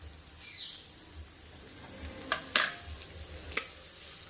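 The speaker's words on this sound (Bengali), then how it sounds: "দিয়ে দেবো পেঁয়াজ কুচি।" Chopped onion goes into hot oil already holding dry red chilli, black cumin (kalonji), chopped garlic and green chilli, giving a soft steady sizzle with a few sharp crackles and spits near the end.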